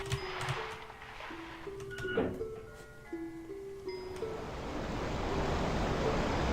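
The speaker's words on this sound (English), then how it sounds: "we're just gonna drain this water real quick" Water drains away in the survival horror game Resident Evil Code Veronica, a rushing, surf-like wash that swells under a string of game music tones and takes over near the end. No voices.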